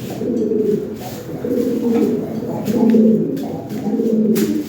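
Lahore pigeons coo in repeated low, throaty phrases, close and fairly loud, in a steady rolling rhythm with brief pauses between calls.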